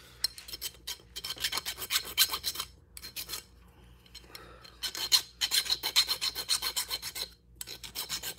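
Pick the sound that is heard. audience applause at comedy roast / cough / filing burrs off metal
filing burrs off metal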